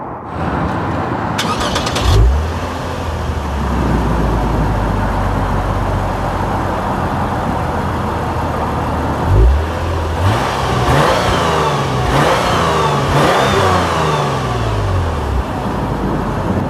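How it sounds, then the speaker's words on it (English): A 2016 Lexus IS300 with a dual active exhaust starts with a sharp crank and catch, settles into a low idle, then blips up in several quick revs that rise and fall, loud and close. "Talking about the exhaust, how about we turn on this vehicle and see how it sounds like."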